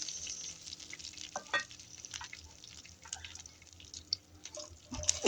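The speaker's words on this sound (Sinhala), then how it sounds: "මේ ටික හොඳට ටෙම්පරාදු කරගන්න ඕනේ" Rampe and curry leaves tempering in hot oil for a Sri Lankan breadfruit mallung, a soft, steady crackling sizzle with scattered pops and spits throughout, heard alone without talk.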